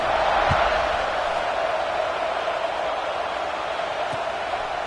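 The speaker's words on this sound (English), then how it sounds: "this crowd is buzzing after that last score" Steady roar of a stadium crowd buzzing after a score in the College Football 26 video game, loud and continuous with a broad wash of noise, a couple of faint thumps, and no clear voices on top.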